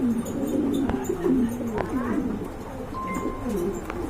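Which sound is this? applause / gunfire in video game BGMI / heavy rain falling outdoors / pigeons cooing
pigeons cooing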